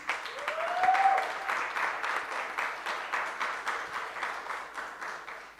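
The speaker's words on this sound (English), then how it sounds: "Let's give her a round of applause." Audience applause at a panel discussion on Orania and self-determination, a steady spread of clapping that rises at first and then holds at a moderate level throughout, with a brief voice near the start.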